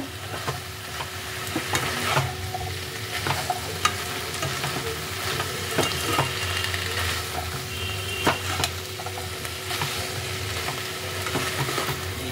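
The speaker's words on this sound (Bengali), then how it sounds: "ফ্রাই করে রাখা চিকেনটা। সব কিছুকে আবারও একবার একসাথে ভালো করে মিশিয়ে নেব।" Fried chicken being stirred together with other ingredients in a pan with very little oil: continuous close sizzling and frying under regular scraping stirs, no speech.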